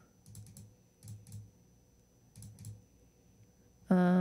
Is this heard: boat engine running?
no